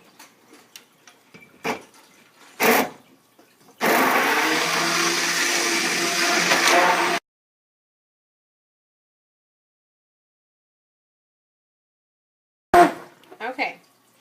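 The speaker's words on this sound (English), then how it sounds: "you take your blender and you mix it all, blend it all" A blender whirs steadily for about three seconds, blending almonds and water into almond milk, preceded by scattered clicks and handling knocks, then silence before a few more brief clatters.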